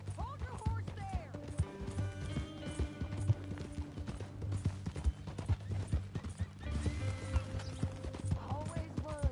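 Rhythmic clip-clop of horse hooves with a horse whinnying in the video game Red Dead Redemption 2, over a low musical drone and voices in the background.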